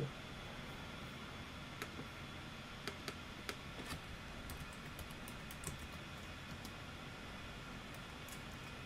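Faint, sparse clicks of a computer keyboard as a stock ticker is typed in, a few scattered keystrokes over a steady background hiss, with no talking.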